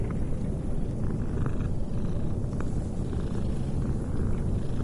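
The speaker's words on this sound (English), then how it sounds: "We always love a game where you can pet the kitty" A black cat purrs steadily while being petted in the video game Mortal Shell, a continuous low, close rumble that holds without pause and has no talk over it.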